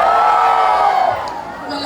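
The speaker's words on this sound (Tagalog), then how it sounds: "Wala po ba hiyawan dyan?" A festival crowd at the Hoyop-Hoyopan Festival 2025 cheers and whoops, loud overlapping shouts and yells that swell briefly and then ease slightly.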